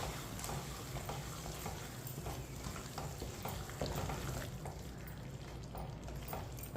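Aloo palak with fresh coriander and half a spoon of garam masala stirred in a hot pan, a continuous sizzle with scraping spoon strokes throughout and no voices.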